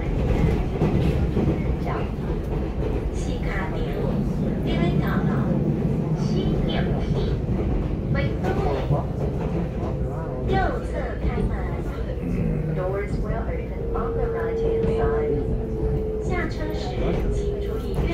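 A three-car DRC diesel railcar set in original livery runs on Taiwan's Shen'ao line toward Badouzi, its engine and wheels making a loud, steady rumble with rattling clicks throughout.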